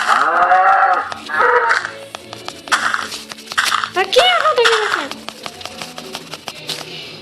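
Cows in Survivalcraft give several drawn-out, wavering moos, loud and close, spread across the stretch with clicks and game noises between them while someone talks.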